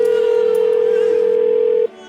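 A telephone gives off a steady, loud electronic tone that holds for nearly two seconds and then cuts off abruptly, heard close with no talking over it.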